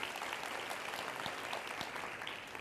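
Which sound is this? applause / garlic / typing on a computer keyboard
applause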